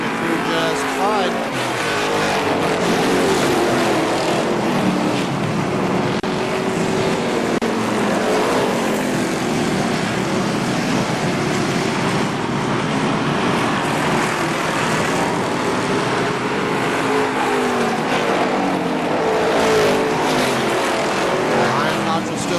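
Race cars circle the KilKare Speedway oval in a steady, loud engine roar that fills the whole stretch, with a track announcer calling the race over the top.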